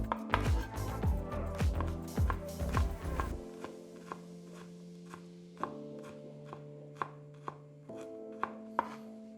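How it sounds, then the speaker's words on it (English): Knife chopping smashed garlic cloves on a cutting board: a fast run of close, sharp rapid chops, then slower, well-spaced single knife taps over a faint background hum, with no talk. "I'll just take the end off that piece of garlic, give it a smash, pull her out, and chop it up"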